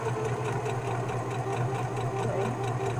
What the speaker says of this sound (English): let me finish getting this seam done